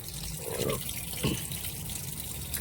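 Tap water running into the tub of a semi-automatic washing machine, a continuous close gush with a few louder splashy surges as the flow hits the water.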